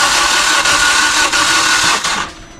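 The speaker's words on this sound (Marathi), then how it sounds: "जेव्हा हेड गॅस्केट जातं आणि कॉम्प्रेशन वीक होतं त्यावेळेला इंजिनचा आवाज कसा येतो बघा" A Maruti Suzuki Ertiga CNG engine with a blown head gasket and weak compression cranks on the starter, a loud, steady, hissing whir with faint regular pulses that tapers off near the end.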